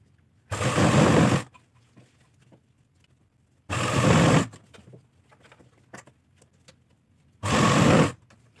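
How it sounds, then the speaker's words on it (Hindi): An electric sewing machine stitches elastic into an Afghani salwar in three short bursts of rapid whirring, each about a second long and separated by quiet pauses with faint fabric handling, no talk. "अब इसके बाद इलास्टिक को खींचते जाएंगे और सिलाई लगाते जाएंगे।"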